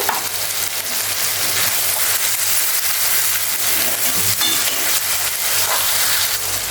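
Tomatoes sauté with salt in a pan for an egg kheema, giving a steady, close, loud sizzle with light stirring scrapes throughout and no talking.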